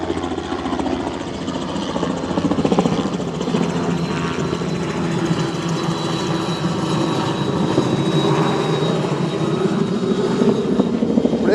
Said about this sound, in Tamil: இந்த பாருங்க ஹெலிகாப்டர் வந்துட்டு